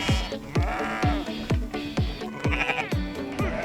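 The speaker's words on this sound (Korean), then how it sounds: "아침에 방목해뒀던 양과 염소를 우리 안으로 모는데요." Sheep and goats bleat in Mongolia while nomads drive the flock back into its pen, many overlapping close, loud calls in a steady dense chorus.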